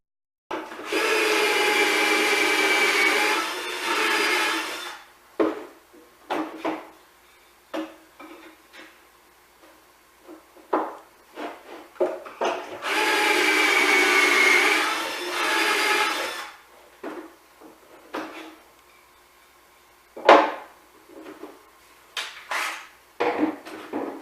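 Cordless drill driver screwing wooden stabilizer supports onto a DIY laundry table: two long whirring runs of several seconds each, separated by clattering handling of wood and scattered knocks, close and fairly loud.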